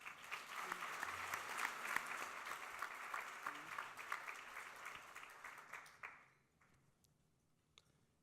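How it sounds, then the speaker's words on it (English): A lunch plenary audience in Chicago gives a round of applause, dense clapping that holds steady for about six seconds and then fades quickly, leaving a few scattered claps in near quiet. "Let's give them a round of applause."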